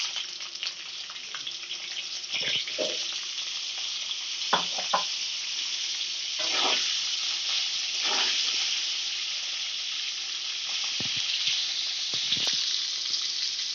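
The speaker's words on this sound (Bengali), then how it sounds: "এই তেলের মধ্যে আমি সেদ্ধ করে রাখা ফুলকপিগুলোও ভেজে নেব লাল করে।" Boiled cauliflower fries in oil in a pan, giving a constant bright sizzle with intermittent spatula scrapes and knocks against the pan, up close and without talk.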